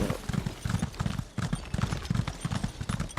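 A horse in Elder Scrolls Online Summerset trots with a steady, rhythmic clip-clop of hooves, close and continuous throughout, with no talking over it.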